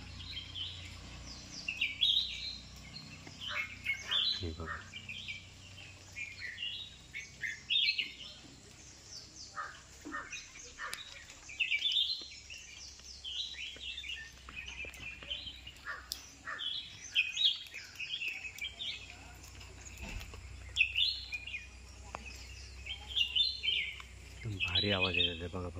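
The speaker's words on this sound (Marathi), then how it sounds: "आवाज बघा सकाळी सकाळी बुलबुल आहेत सगळे बुलबुल." Bulbuls sing in the morning beside a house in a Konkan village, with repeated bright chirps and warbles coming from several birds at a moderate distance. A voice speaks now and then over the birds.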